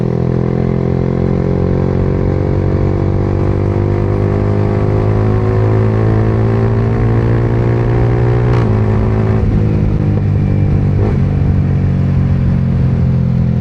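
A 2025 Yamaha R15M with a first-copy Akrapovic full-system exhaust idles and revs with a loud, steady throaty drone, interrupted by a couple of brief blips near the end, heard close up with no talking.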